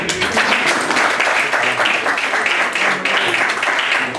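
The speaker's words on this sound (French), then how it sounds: "Applaudissez s'il vous plaît." Guests at an 80th birthday celebration applaud, a loud, continuous wash of many hands clapping close by, holding steady for the full four seconds with no talk over it.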